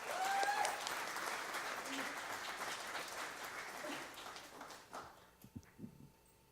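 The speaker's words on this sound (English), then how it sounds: "So give a round of applause to Kay Samuels." An audience at a church service claps for an honored member, a broad round of applause that gradually thins and fades into a few scattered final claps and soft rustling.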